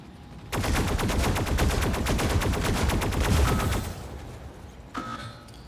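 Rapid automatic gunfire in a tank video game, a dense, loud burst of regular shots lasting about three seconds, followed by a short pause and one more sharp report.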